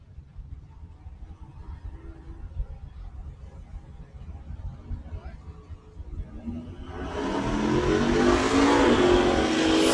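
Drag racing launch at the Northwest Independence shootout with an '82 Camaro and a Mustang: low engine rumble idles for several seconds, then a loud, sustained roar of hard acceleration surges in near the end.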